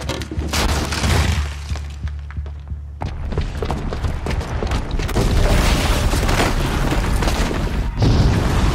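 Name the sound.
bomb booby trap explosion, from video game Horizon Zero Dawn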